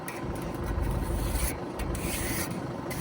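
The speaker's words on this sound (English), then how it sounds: "give it a touch up if it needs to with the trowel" A wood or steel trowel scrapes and smooths wet cement around the base of a post, giving a steady gritty rubbing with a few distinct strokes, fairly quiet and without talk.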